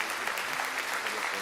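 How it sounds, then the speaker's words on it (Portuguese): A church congregation applauds during a morning worship service, a steady dense wash of clapping that holds evenly through the short stretch with a few voices faintly mixed in. "Aplauda o Senhor"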